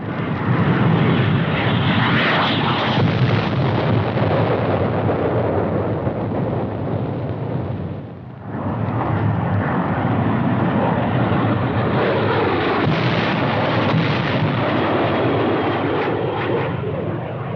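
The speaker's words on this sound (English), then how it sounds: "The deadly napalm is dropped in a veritable blanket of destruction over the enemy's position." Military aircraft dropping napalm on dug-in enemy positions in 1957 US Army footage: a sustained, heavy roar of engines and rumbling blasts filling the whole clip, with a momentary dip near the middle and no speech.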